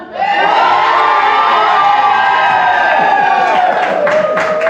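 A large crowd cheers, shouts and claps loudly and continuously at a voting event, a dense roar held steady for several seconds with no clear speech.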